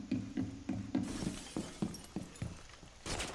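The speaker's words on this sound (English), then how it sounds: "Glass broke. Wood broke." Glass shattering in Rainbow Six Siege, a hostage match: a series of sharp breaking impacts in an irregular rhythm, close and fairly crisp, followed by a brighter crash at the end, with no talk.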